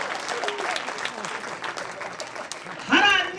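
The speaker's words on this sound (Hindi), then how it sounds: "सारे लोग मिलकर जोर से ताली बजाना" Audience applause erupts at a poetry evening during a cultural event at a national conference, rising loudly at the very end right after a voice speaking at length.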